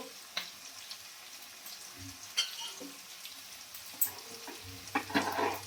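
Tomato sauce and ground pepper being stirred into dry chilli chicken in a frying pan: a quiet, soft sizzle under sporadic spoon scrapes and taps against the pan, with a busier cluster of scraping near the end.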